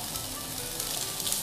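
Garlic and ginger sauté in hot oil in a pan where half-fried eggplant has just been cooking, giving a steady, close sizzle that holds evenly throughout with no talking.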